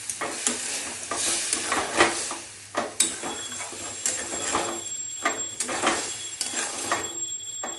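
Brinjal and masoor dal sizzle and hiss in a pan as water is poured in, with stirring scrapes and bursts of spitting steam repeating in uneven pulses, close up and without talk.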